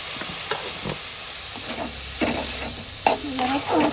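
Malvani masala sizzles in a hot pan as a spoon stirs and scrapes through it in uneven strokes, with a steady hiss underneath and a few louder clinks, close up and free of speech.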